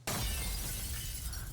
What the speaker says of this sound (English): I love that he shattered the glass